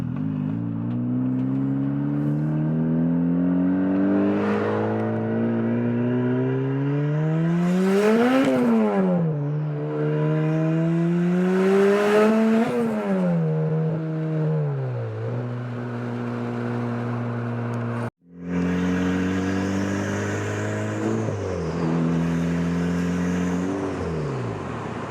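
A turbocharged Toyota Celica GT-S with a 2ZZ engine, running a base map, revs loudly and close up in repeated rising and falling sweeps, then drops to a burbling idle, cuts out briefly and picks up again.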